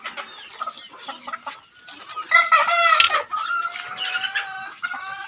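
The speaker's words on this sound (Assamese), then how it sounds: "তো এইখিনি আছে কণী পৰা মুৰ্গী।" Egg-laying desi chickens on a farm cluck in quick bursts, then a loud rooster crow rises near the middle and carries on with overlapping clucks, close and clear.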